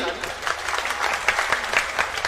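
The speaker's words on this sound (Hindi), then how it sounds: "बजाइए ताली।" Audience at a mushaira gathering in Dhaka applauds steadily, a dense wash of claps sustained throughout, with voices mixed in under it.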